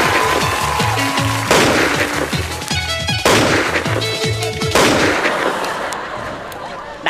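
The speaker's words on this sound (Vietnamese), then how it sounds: "Đạn bắn quá trời, thằng nào trúng đạn vậy?" Rapid gunfire fills a chaotic scene: many shots in dense bursts and rolling volleys, loud and continuous, with booming reports layered over a steady din throughout.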